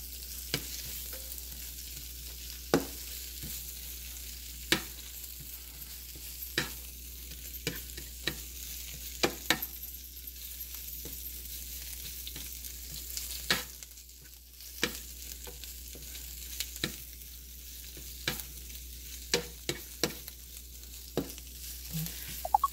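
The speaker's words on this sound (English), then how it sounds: "And keep stirring, stirring, stirring. Get it all mixed up with that garlic and olive oil." Greens fry in garlic and olive oil with a low, constant sizzle, while a utensil taps and scrapes the pan in frequent irregular strokes, close and quiet, with no voices.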